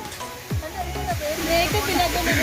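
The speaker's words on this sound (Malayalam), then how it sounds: "ഇങ്ങോട്ട് നോക്കി വെള്ളച്ചാട്ടം എങ്ങനെയുണ്ട്" Constant rushing roar of a forest waterfall fills the background while a person talks over it nearby.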